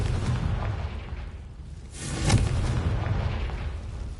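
An explosive Confringo spell bursts in Hogwarts Legacy, a deep rumbling boom swelling midway over a continuous low roar, with no talk.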